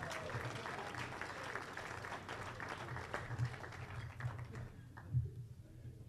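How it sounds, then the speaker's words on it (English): Quiet audience applause at a Hall of Fame induction ceremony, a soft steady patter of clapping with a low hum beneath and a few louder thumps, fading out toward the end. "And all that applause is for the two of you"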